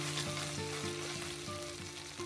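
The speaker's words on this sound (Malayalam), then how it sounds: "ഇതൊന്ന് ചെറുതായിട്ട് മൂക്കുന്നവരെ 1 മിനിറ്റോളം ഒന്ന് വഴറ്റുക." Chopped garlic and ginger paste sauté with a continuous, even frying sizzle for a moment, while a steady hum with shifting tones runs underneath.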